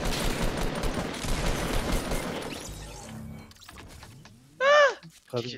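Gunfire in Fortnite, a dense burst of rapid shots and impacts for about two and a half seconds, followed by quieter scattered sounds and a high chirping effect, with players talking.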